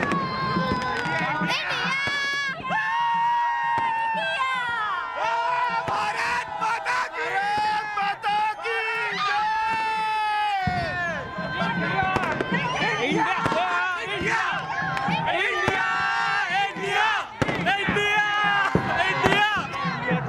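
A large crowd cheers and shouts in celebration of India's cricket win over Pakistan in Nagpur, a dense, continuous roar of many voices and whistles lasting throughout, with individual shouts rising above the din.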